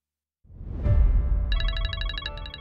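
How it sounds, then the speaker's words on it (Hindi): A phone rings with an incoming call, a low swell of tones followed by a bright, rapidly pulsing electronic ringtone that repeats steadily and fairly loudly, with no voices. "किसका फोन है?"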